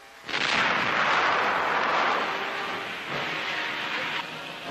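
Burning tank's ammunition exploding in flames during Marine fighting on Okinawa in 1945, a sudden loud roaring blast that rumbles on with a second surge, heard close without voices in archival newsreel sound.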